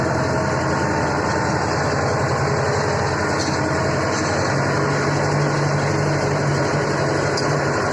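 A Skaut 404C tractor engine running steadily up close, a loud continuous rattling drone with fast low pulsing and a slight shift in pitch partway through, no talking.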